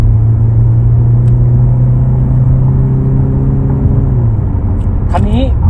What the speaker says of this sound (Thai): ผมว่าเสียงท่อคู่กำลังดีนะ